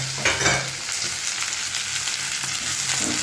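Onions frying in hot oil in a wok along with ginger, garlic and chilli, a steady broadband sizzle with occasional stirring scrapes, close and continuous with no talking.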